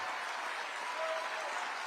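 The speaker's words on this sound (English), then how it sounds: "And the crowd goes wild" Sustained clapping and cheering from a live show crowd, a thick continuous roar of hands and voices held at an even, moderate level throughout.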